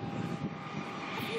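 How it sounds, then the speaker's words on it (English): The propeller engine of a small 19-seater plane drones steadily and loudly throughout, a constant close cabin hum with faint talk underneath. "Have you seen how small this plane is?"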